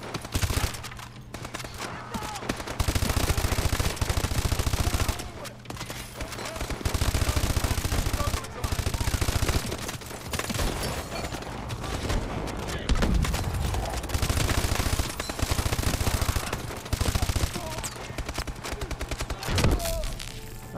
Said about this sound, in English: I love the sound of the suppressor.